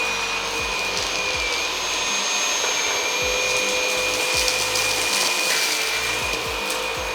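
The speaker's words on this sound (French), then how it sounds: "J'allume l'aspirateur, là on est en mode low, on passe en mode médium." A Cecotec Rockstar 2500 stick vacuum cleaner runs close up with a steady, loud whine and airflow hiss, with scraping and rubbing sounds as it moves across the floor.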